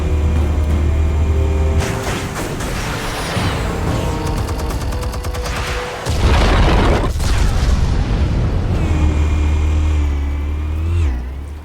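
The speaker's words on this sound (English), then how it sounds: "Explosives armed. Fire when ready." Heavy booming blasts of explosives detonating in the Batman Telltale video game, loud rumbling bursts with crackling debris and a surging roar midway, no talk.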